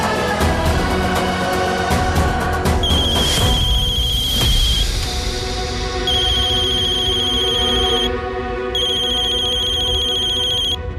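A phone ringtone rings repeatedly in bursts of high electronic tones over a dense musical background, with no voices.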